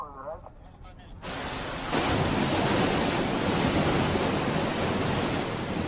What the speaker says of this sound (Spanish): Las potentes bombas arrancan y el agua inunda la inmensa piscina.